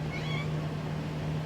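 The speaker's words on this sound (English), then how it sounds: "Oh, Sophie says meow." A pet cat meows briefly near the start, a short squeaky call over a steady low hum from indoor background noise.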